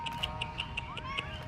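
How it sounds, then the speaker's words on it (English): A cat meows over and over in short, repeated calls, fairly close, with no talking over it. "It's a Chessie kitty."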